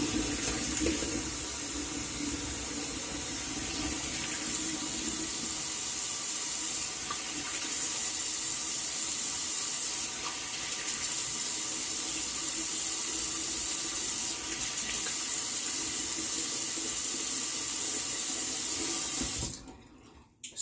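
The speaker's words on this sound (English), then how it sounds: "gonna do a cold water rinse." Water runs steadily from a tap for a cold water rinse after shaving, a loud continuous splashing hiss that cuts off abruptly near the end.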